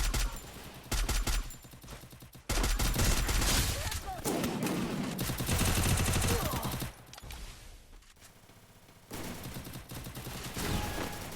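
Rapid bursts of gunfire from Free Fire headshot shooting, loud dense volleys that stop and restart several times, with brief quieter gaps between strings of shots.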